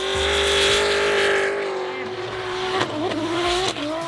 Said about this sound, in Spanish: Los coches son una pasada, hacen un ruido increíble, sacan humo